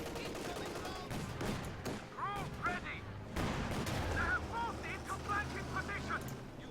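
Tank cannon and machine-gun fire in the real-time strategy game Company of Heroes 2, with repeated sharp reports and short rattling bursts amid a cluttered battle soundscape with scattered unit call-outs.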